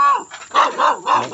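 A few quick, close barks from a dog in rapid succession, loud and sharp, with some overlapping voice-like sound.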